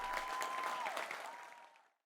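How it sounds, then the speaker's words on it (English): Studio audience applauding a guest's arrival on a talk show: a dense burst of clapping, steady for about a second and a half before thinning out and stopping, with a faint steady tone beneath. "Round of applause, everyone."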